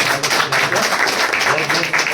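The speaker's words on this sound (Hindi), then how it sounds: "एक बार जोरदार तालियों से" Applause from a crowd at a swearing-in ceremony of a community association in Chhaprauli, Baghpat, a dense continuous patter of clapping lasting about two seconds.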